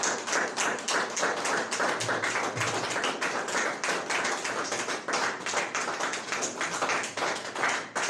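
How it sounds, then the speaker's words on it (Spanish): Congregation at an evening church service clapping together in a fast steady rhythm, a dense, even, close-up stream of hand claps with no talking. "¿Cuántos le pueden dar un aplauso al Señor por su gracia?"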